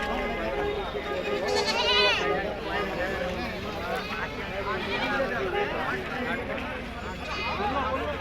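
Several goats bleat repeatedly at the Bharadi livestock market, some close and some farther off, amid a busy crowd with people talking in the background.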